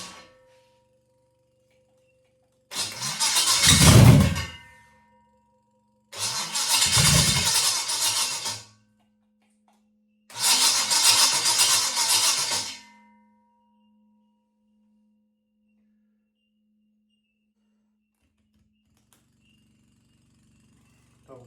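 A freshly rebuilt 350 Chevy V8 with a 6-inch rodded bottom end in an HQ Holden Kingswood tries to start: three separate bursts of loud churning and firing, each a couple of seconds long, separated by short silences, with no steady idle after them.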